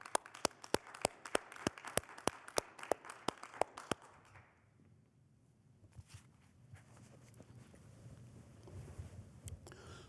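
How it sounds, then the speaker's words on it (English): At a Catholic high school baccalaureate Mass, a sparse, even run of distinct claps echoes in a large room for a few seconds, then fades into quiet room murmur. "let's give them a hand of applause for their class"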